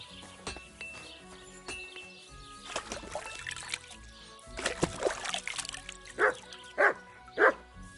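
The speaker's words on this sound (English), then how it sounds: "You silly mutt." A dog barks in the medieval video game Kingdom Come Deliverance, with a few scattered barks and clinks early, then three loud, sharp barks spaced about half a second apart near the end.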